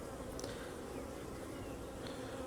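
Honeybees buzz steadily at an open hive during a hive split, a dense continuous drone close by with no talking.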